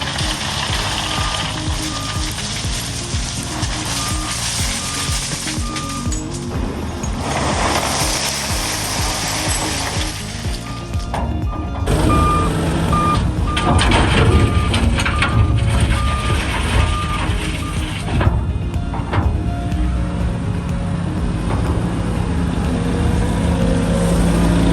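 A tractor with reversing beeps works on a farm track, bringing stone down and tipping it into deep holes, with a steady engine drone, ratcheting mechanical clanks and a loud rumbling dump partway through.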